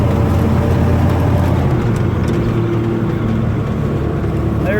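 The engine of a 1978 Ford F150 pickup idles loudly and steadily at close range, a dense, constant rumble with no pauses.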